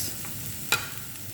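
Tomato and spices fry in a little oil for a tuna biriyani, giving a steady, quiet sizzle with one brief stirring scrape partway through, and no voices.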